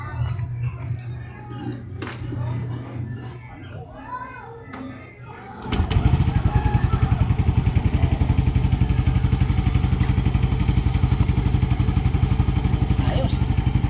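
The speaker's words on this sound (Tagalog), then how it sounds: "Try na natin pandarin kung wala bang singaw yung tambutso." Children's voices and light household sounds come first, then a Yamaha Mio Gear 125 scooter engine starts up close and runs loud and steady with a rapid, even exhaust pulse for the rest of the clip.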